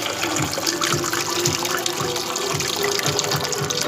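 Whey drains steadily off curdled milk strained for homemade fresh paneer, a continuous close splashing pour of water with no talk.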